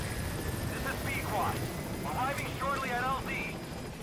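A helicopter in Metal Gear Solid V: The Phantom Pain arrives for pickup, a steady broad rotor roar filling the scene throughout while a voice talks over it.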